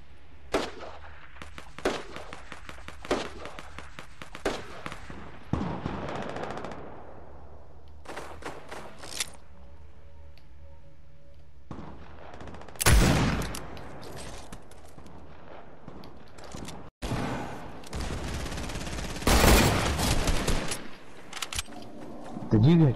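Hunting rifle gunfire in a video game, sharp loud shots scattered across the clip amid bursts of other game noise, with players talking excitedly over and between the shots.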